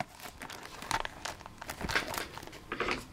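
Plastic wrap on a Pokemon Base Set 2 booster box being cut and pulled off, close crinkling and tearing rustles in quick irregular bursts, fairly faint.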